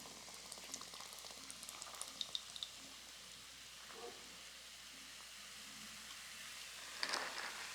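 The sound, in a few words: lime sparkling water fizzing in a cup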